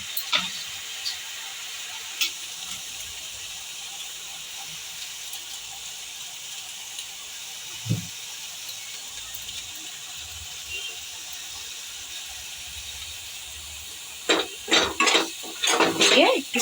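Chopped onions with a pinch of sugar sizzle steadily in a pan for curried chicken bharta. A faint, constant hiss is broken by a few soft scrapes, then a burst of spoon-on-pan clatter from stirring near the end. Nobody speaks.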